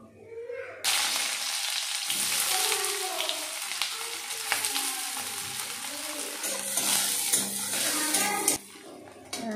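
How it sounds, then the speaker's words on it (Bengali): Chopped green chilli and onion fry in a pan for a potato and egg curry, giving a steady, close sizzle with occasional stirring clatter throughout. "কাঁচামরিচ কুচি আর পেঁয়াজ কুচি ভাজা হয়ে গেছে।"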